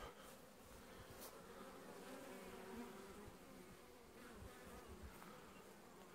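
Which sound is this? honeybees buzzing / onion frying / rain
honeybees buzzing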